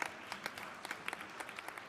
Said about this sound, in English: We'd give him a round of applause